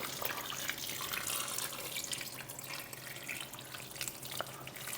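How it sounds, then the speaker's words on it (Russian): Hot water is poured over summer tolma, fresh vegetables stuffed with meat, in a pot, making a steady, close splashing gurgle with no talking. "Заливаем горячей водой."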